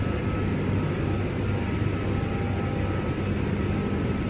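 Airbus A340-600 engines in the X-Plane 12 flight simulator, heard as a steady, loud broadband roar with a low drone that holds evenly throughout without pause.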